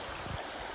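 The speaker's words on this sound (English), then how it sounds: "This river doesn't look too deep, but most of the water is on the other side over there, running in this area." Shallow river on a Cades Cove hiking trail running over rocks, a soft steady wash of flowing water heard faintly and continuously, with no talking.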